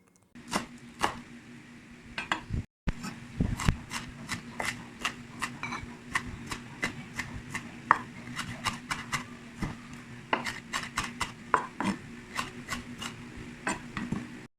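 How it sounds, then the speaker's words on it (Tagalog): A knife finely chopping onion leeks on a board, with rapid, regular close-up chops that carry on for the whole stretch after a brief pause near the start. No voices. "hiniwa ko yung onion leeks"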